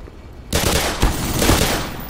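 Dense, loud automatic gunfire erupts in the Black Mesa video game after a quieter moment and continues as a sustained rattling barrage.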